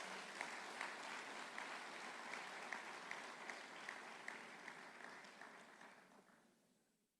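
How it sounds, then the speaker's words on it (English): Audience applause for President João Lourenço of Angola at a peace event in Luanda, a steady wash of many hands clapping that tapers off and fades out at the end. "let's give him and his leadership a round of applause"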